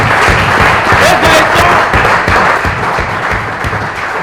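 Studio audience applauding a game show contestant after he wins the first round, steady dense clapping filling the whole stretch with a voice talking faintly underneath.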